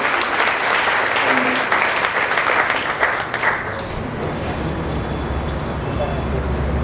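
Audience clapping at a book release function in Delhi, a dense burst of applause for several seconds that fades into a low hall rumble.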